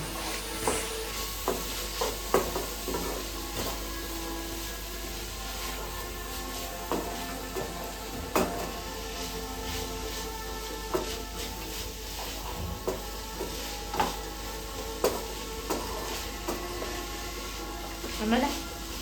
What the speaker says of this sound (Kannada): ಸ್ವಲ್ಪ ಎಲ್ಲ ಚೆನ್ನಾಗಿ ಫ್ರೈ ಮಾಡ್ಕೊಳ್ಳಿ